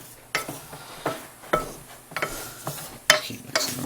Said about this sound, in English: I'm just going to keep mixing them around until they're, I said, halfway melted.